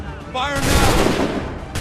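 Musket volley in Assassin's Creed 3, a dense burst of overlapping gunfire crackling loudly right after a shouted command, with voices mixed in.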